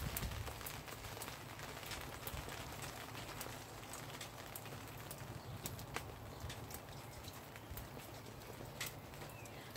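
Rain falls steadily outdoors onto an umbrella held overhead, a dense, constant patter with scattered sharper drip ticks throughout and no talking.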